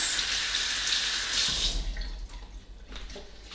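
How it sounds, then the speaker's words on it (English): Hands washed under a running kitchen tap, a loud rushing stream of water for a couple of seconds that then cuts back to splashing and dripping. "You wash your hands."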